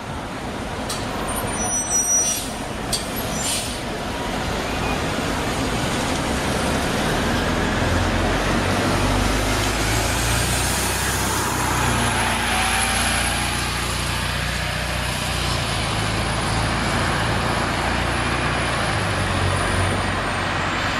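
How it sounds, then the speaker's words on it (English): A Neoplan AN460 articulated bus with a Detroit Diesel Series 50 engine rumbles loudly and continuously nearby, with a brief hiss of air near the start and a high whine rising as the engine pulls. "These two were powered by a Detroit Diesel Series 50 engine."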